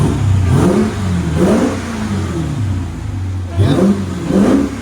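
A 2023 Dodge Durango Hellcat SRT with a supercharged 6.2-liter V8 and straight-pipe exhaust revs up close, giving four sharp throttle blips that rise and fall over a steady rumbling idle.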